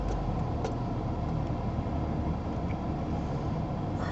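Road traffic passing close by, a continuous loud roar of engines and tyres that holds steady throughout with no talking.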